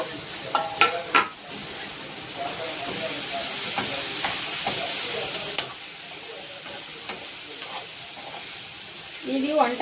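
Tomato and chilli frying with lightly cooked onions in a pan: a continuous hiss and sizzle close by, broken by a few sharp clacks of stirring.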